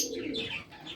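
Yellow tailmark pigeons coo softly at a pigeon farm, a brief low murmur with faint chirps mixed in, close and without speech.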